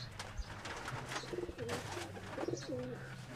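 Soft, throaty pigeon coos repeat several times at a moderate distance over a steady outdoor background hum.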